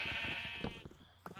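A sheep bleats in the Minecraft video game, one sustained wavering bleat near the start, clear and close over a steady background.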